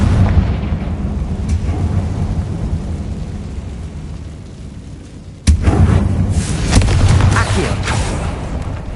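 A Confringo fire-blast spell explodes in the Hogwarts Legacy video game. A sudden loud blast hits midway through, followed by a rumbling, crackling tail over a steady low background rumble.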